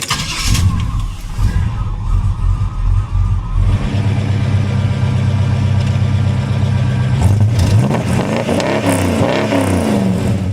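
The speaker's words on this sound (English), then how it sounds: "let's take a listen to the startup and the exhaust sound." A big block 454 V8 in a 1967 Chevy Impala station wagon cranks and fires up, settling into a deep, loud rumbling idle, then revs with throaty exhaust swells.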